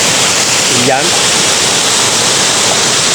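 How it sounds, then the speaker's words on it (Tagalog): A river flows through a brook in Barangay Gabas, Buhi, Albay, a continuous broad rushing wash of water, close and steady, with a brief spoken word near the start. "Yung umaagos talaga yung ilog dito."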